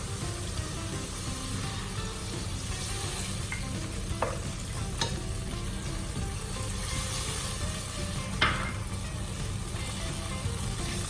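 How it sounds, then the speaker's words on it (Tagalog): Soy sauce goes into a hot pan of milkfish for adobong bangus, bringing a constant close-up sizzle and bubbling with a few faint clinks and scrapes. "So, ngayon, ibuhos na natin yung natitirang toyo."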